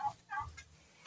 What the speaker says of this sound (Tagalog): Ito na yung ating mga pabo.